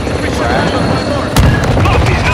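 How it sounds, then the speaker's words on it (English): An airplane in a battle royale video game roars loudly overhead as a steady, broad drone, with a sudden heavy boom partway through and gunfire-like bursts layered into the roar. "you know that airplane took all the sound"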